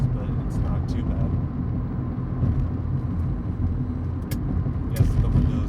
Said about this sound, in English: there's some wind noise, but it's not too bad